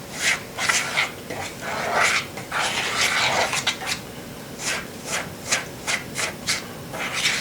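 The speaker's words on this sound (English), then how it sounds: "You mix the oil into the flour." Oil is worked into flour for cathead biscuits with a rubber mixer, producing steady gritty scraping and rubbing strokes in a regular rhythm, close and moderately loud, with no talking.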